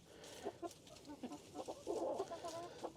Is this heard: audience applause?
no